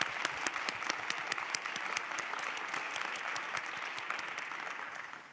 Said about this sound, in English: Let's just do a Latin applause for that.